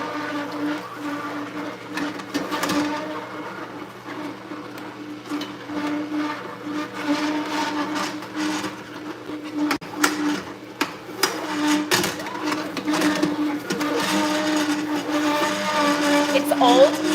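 An old juicer motor whirs continuously with a steady mechanical drone and intermittent grinding, rattling surges as green juice ingredients feed through in small pieces; a voice speaks over it.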